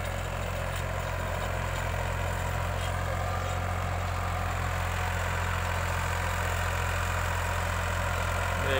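A heavy engine idles steadily with a deep, constant low rumble and no pauses, close by; a Farmtrac 45 45 HP tractor with a rotavator, running very loud and not taking the load.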